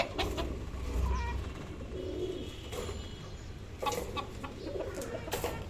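A hen entering a coop clucks softly in short, scattered bursts over a noisy background, faint and a little distant, with no talking.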